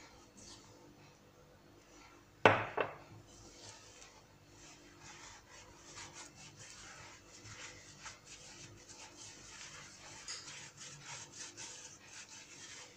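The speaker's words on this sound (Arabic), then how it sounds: "نزيدو الفرينة، نلمو العجينة تاعنا" Hands knead and rub soft dough made with flour and one egg for fried beignet balls, a faint, steady rasping and squishing that runs on after one sharp knock near the start.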